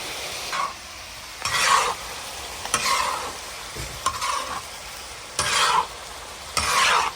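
Chicken liver and onion fry in ghee on a tawa, giving a continuous sizzle broken by repeated loud scraping stirs at a steady rhythm, close up and with no talking.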